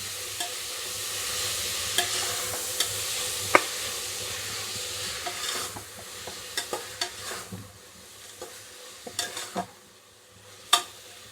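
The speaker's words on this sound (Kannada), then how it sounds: "ಫ್ರೈ ಮಾಡೋಣ" Four big chopped tomatoes frying in a pan for South Indian tomato bath, a soft continuous sizzle broken by sharp spoon clicks and scrapes against the pan.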